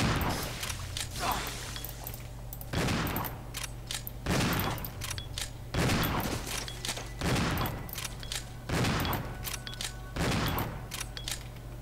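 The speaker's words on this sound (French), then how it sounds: "j'ai tiré plusieurs balles parce que j'ai peur" Gunfire in Resident Evil 0, a run of roughly eight evenly spaced loud shots from a single weapon, each a sharp crack with a short tail, over a low game hum.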